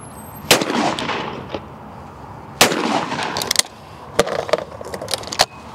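A Miroku 6000 shotgun fires several sharp, loud reports a second or two apart outdoors, each followed by a short rumbling tail.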